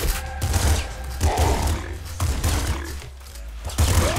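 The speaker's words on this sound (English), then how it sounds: "Got the golden shotgun." The golden shotgun fires repeatedly in the video game Nuclear Throne, loud booming blasts in quick bursts mixed with other game action and roars.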